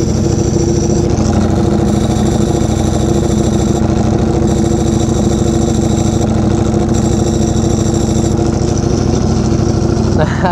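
Up close, a Ducati Panigale V4R with a freshly installed dry clutch idles loudly and steadily, its deep pulsing rumble layered with a metallic clutch rattle. The sound is constant for the whole stretch.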